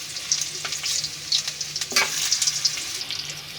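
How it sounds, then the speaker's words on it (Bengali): Potatoes fry in hot oil in a kadai for chicken biryani, a steady close sizzle broken by scraping stirs and a few sharper pops. "এই যে আলুটি একটু ভাজা নিব"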